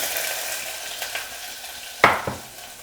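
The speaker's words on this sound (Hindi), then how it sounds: "अब इस गरम घी में ना ये जो अदरक, लहसुन और हरी मिर्च बची थी, इसको डाल देंगे।" Ginger, garlic and green chilies hit hot ghee in a pan, bursting into a loud hiss that crackles steadily and is stirred with a few utensil scrapes, close and continuous without talking.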